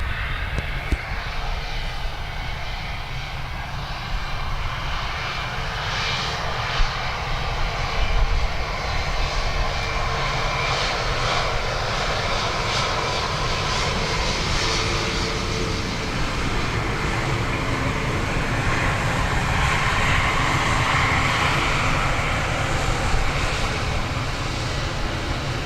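Turbofan engines of a Turkish Airlines Airbus A350 roar steadily at Dublin Airport, a loud, sustained broadband rumble lasting throughout with wind buffeting the microphone.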